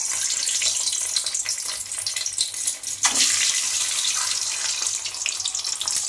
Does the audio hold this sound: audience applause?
no